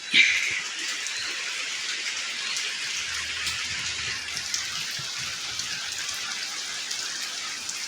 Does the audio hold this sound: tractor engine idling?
no